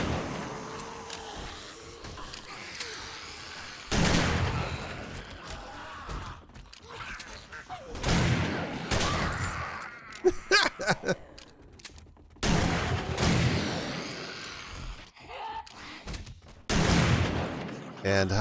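Bursts of gunfire from the survival game 7 Days to Die, loud volleys separated by pauses and recurring several times, with someone talking over and between them.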